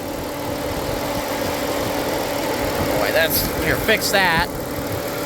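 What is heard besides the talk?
1997 Dodge Grand Caravan engine surging at idle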